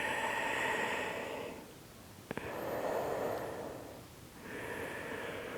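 Slow, deep breaths during a yin yoga pose: a long airy inhale, a pause with a brief click, then another long breath in and out, soft and close with nobody speaking.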